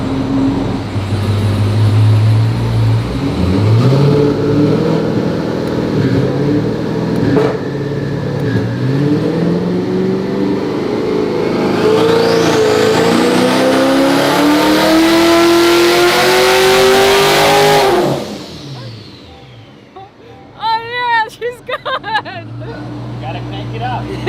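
A car engine on a dyno horsepower pull revs hard, pitch climbing steadily for about fifteen seconds before abruptly cutting off, loud and close, with faint voices in the quieter moments afterward.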